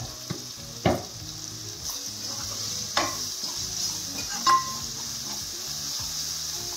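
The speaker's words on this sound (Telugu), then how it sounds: "సో అల్లం వెల్లుల్లి పేస్ట్ ఒక 30 సెకండ్స్ అలా ఫ్రై చేసుకోవాలి" Ginger garlic paste frying in a pan while a mutton curry is made, with a steady close sizzle broken by a few sharp clicks of a utensil against the pan.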